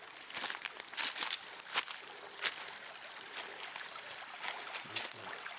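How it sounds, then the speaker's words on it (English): A small stream trickles over rocks in an Appalachian creek, a soft, continuous splashing broken by brief, sharper bursts. "here's the stream, and just on this side, there's a little trickle of it."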